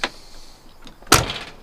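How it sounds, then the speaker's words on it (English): A Fox-body Mustang 5.0 passenger door swings shut with one firm, solid thud close by, preceded by a faint click of the latch handle. "Let's try the passenger door."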